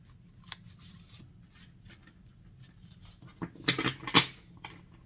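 Tarot cards being shuffled by hand, a run of soft papery riffles and flicks building to a few louder brisk bursts near the end, close and quiet with no talk.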